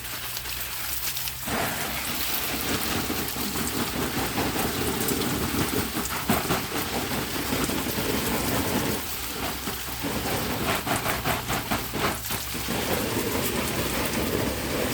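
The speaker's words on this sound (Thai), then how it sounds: "ฝนตกขนาดนี้" Heavy rain pours down steadily in a thunderstorm, a dense continuous hiss of drops on surfaces with low rumbles of thunder rolling underneath throughout, no voices.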